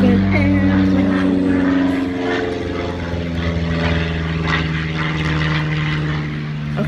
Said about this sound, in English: Okay, airplane's gone